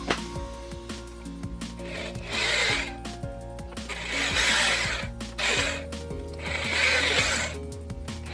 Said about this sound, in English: So I can drill this, come along, drill this.